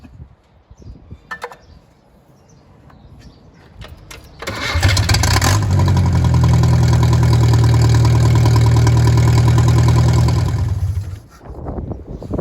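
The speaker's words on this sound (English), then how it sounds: "So we'll start the engine, let it run for 30 seconds, shut it down and recheck." A Datsun 1500 ute engine cranks briefly, catches and settles into a steady, loud idle close by, running evenly for several seconds before being shut off.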